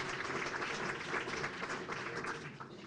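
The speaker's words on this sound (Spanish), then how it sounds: "Un aplauso para él." Audience applause at a conference on Nancarrow, steady dense clapping filling the room for about three seconds with no voices over it.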